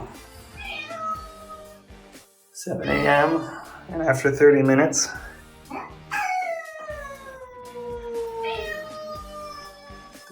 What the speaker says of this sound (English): the cats are not happy about having to be locked away so the movers can't